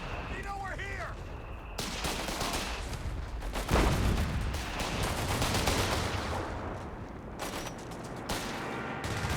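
Strafing-run gunfire in Company of Heroes 3, a dense stretch of rapid, overlapping bursts and impacts rolling through the whole battle scene, with a voice talking over it.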